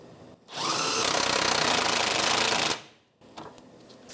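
An impact gun fitted with an 18mm socket drives a bolt on the rear shock absorber of a 2009-2014 Nissan Maxima, one sustained loud whirring burst of about two seconds, close by, followed by a few faint clicks.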